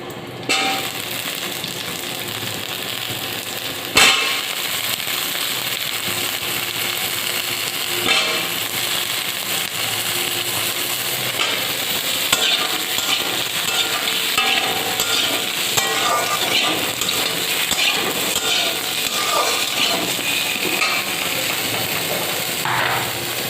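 Potatoes tipped into hot oil seasoned with bay leaf and green chili for a Bengali drumstick, potato and rohu fish curry give a steady, loud sizzle that runs throughout, with a sharp clatter near the start and no talking.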